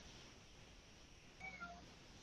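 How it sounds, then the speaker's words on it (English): A small cat meows a few times, faint and brief, over a quiet room with steady background hiss during an indoor exercise session. "Yes, little cat."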